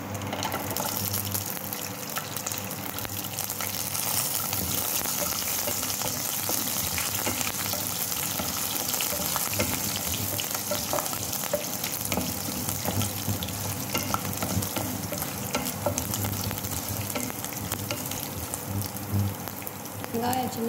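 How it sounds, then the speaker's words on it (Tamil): Garlic frying in oil for fenugreek kuzhambu: a continuous loud, crackling sizzle with bubbling and occasional stirring, running unbroken throughout. "ஸ்டேஜில் பூண்டு போட்டுக்கலாம்."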